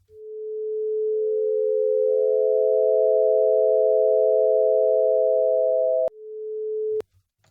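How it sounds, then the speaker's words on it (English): Three sine tones mixed together in Sound Forge Pro 12, joining one after another into a steady, loud chord with no other sound, then abruptly cut to a single tone before a sharp click and silence. "these three different sine waves coming from the same origin"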